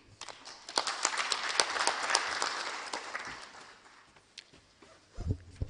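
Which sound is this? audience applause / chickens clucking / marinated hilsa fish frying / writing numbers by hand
audience applause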